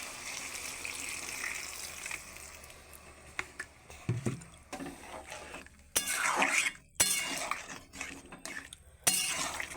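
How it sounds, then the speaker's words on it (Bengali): Water poured from a vessel into a cooking pot of bottle gourd and potato curry with Morla fish, a gushing splash amid clinks of metal utensils against the pot, close and fairly loud in bursts. "এইবার দিয়ে দেবো পরিমাণ মতো জল।"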